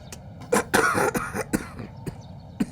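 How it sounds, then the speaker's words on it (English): Harsh, wet coughing from one person, a cluster of several bursts followed by a few isolated hacks and throat-clears, close and loud with short gaps of quiet between them. "You're coughing so badly."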